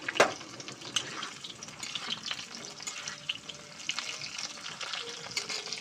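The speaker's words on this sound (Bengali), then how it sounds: "এখানে ফুলকপি আলু ভাজা হচ্ছে" Cauliflower and potato pieces fry in a pan with a steady, close sizzle, broken by occasional stirring scrapes and clinks throughout.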